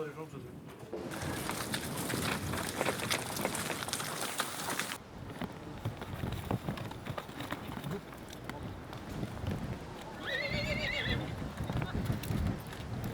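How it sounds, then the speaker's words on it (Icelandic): Horses being sorted on an Icelandic farm, with steady hoof and movement noise outdoors and a clear neigh near the end over background bustle, plus pigeon-like cooing. "Við erum bara að sortera hrossin okkar."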